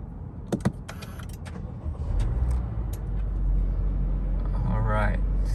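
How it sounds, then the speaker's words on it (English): A Honda City 1.5L V-Spec engine cranks and catches after a few soft clicks and key jangles, then settles into a steady low idle heard from inside the cabin. "So let's start the car."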